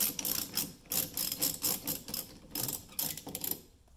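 Fast clicking of a ratchet with a 10 mm socket backing out headlight housing bolts on a 2017 Ram 2500, close and crisp in repeated bursts with short pauses.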